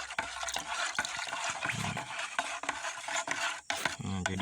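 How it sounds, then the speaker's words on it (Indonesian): A pesticide mixture with adhesive added is stirred until evenly blended, giving a steady close-up wet churning and scraping with small splashes and knocks throughout. "Nah, setelah selesai tadi pestisida yang terakhir perekat, itu kita aduk"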